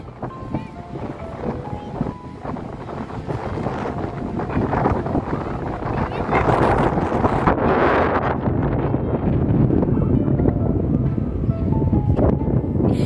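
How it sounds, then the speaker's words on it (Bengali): Cool sea wind buffets the microphone on a beach at Saint Martin's Island, a rough, gusty rumble that swells louder midway and stays strong, with the sea faintly underneath. "কি ঠান্ডা বাতাস।"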